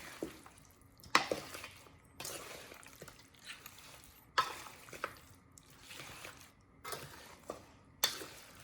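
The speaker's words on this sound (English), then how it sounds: "Okay, you're gonna mix well like that" Marinated wild hog meat being mixed by hand with satay and lemongrass seasoning, giving soft wet squelching and stirring sounds in repeated bursts, with occasional light clinks against a bowl, close and fairly quiet.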